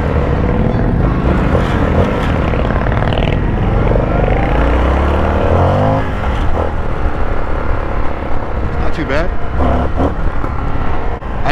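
A 2021 Indian FTR-R Carbon motorcycle ridden on the road: a loud, continuous engine drone with rising and falling pitch as the throttle changes, plus wind noise. A rider talks over it at times.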